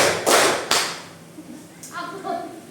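A class of pupils claps together in a 'tepuk pagi' classroom clapping game, giving two sharp, loud clap bursts in quick succession. A few quieter taps follow under a spoken voice.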